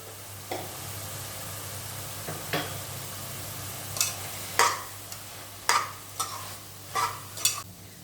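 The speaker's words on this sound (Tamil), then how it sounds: "தக்காளி பழம் நல்லா வதக்கிடலாங்க." Bitter gourd and tomato being stir-fried in a pan, with a soft continuous sizzle broken by a series of sharp spoon scrapes and knocks that grow more frequent toward the end.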